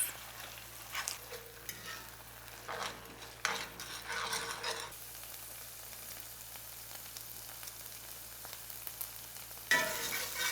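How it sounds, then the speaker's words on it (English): Vegan TVP chorizo stirred in a pan with oil and sauce on low heat gives a soft sizzle with several scraping stir strokes, close and fairly quiet, with no one talking. "Mix the oil, the sauce, and the TVP very well until everything is incorporated and cook on low"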